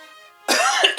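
A single harsh cough or throat-clear bursts out loudly near the microphone, following a faint tonal hum.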